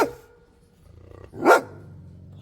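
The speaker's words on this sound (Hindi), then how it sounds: "भौंक रहा है, कोई बात नहीं" A dog gives one loud, fairly close bark midway through; quiet outdoor background comes before and after, and no one speaks.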